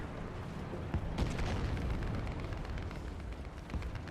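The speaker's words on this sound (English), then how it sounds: "There's a lot of shots going off" Tank gunfire and explosions in War Thunder during a battle with a Churchill tank, a dense rumbling wash of booming shots and blasts, several sharper bangs standing out from the continuous low roar.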